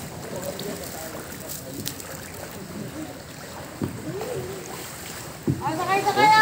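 A boat moves through dirty flood water in Malabon. Water washes and churns, and wind noise buffets the microphone. The splashing grows louder and closer toward the end, and people talk faintly nearby.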